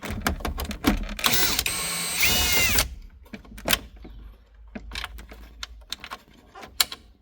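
Screws being removed from the top section of a VW Passat CC center console, a short burst of whirring tool motor followed by scattered clicks and taps of plastic trim and loose parts, close and without talk.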